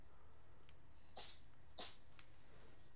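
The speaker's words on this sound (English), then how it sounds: "Did you guys hear that cat sneeze?" A cat nearby gives two quick, sharp sneezes about half a second apart against a quiet background.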